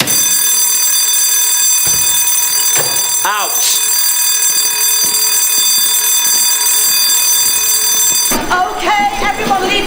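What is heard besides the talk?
school fire alarm ringing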